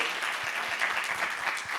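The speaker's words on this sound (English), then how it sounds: "big applause there" Audience applause at a panel session of an entrepreneurship conference, heard as dense, continuous clapping from a seated crowd at moderate volume.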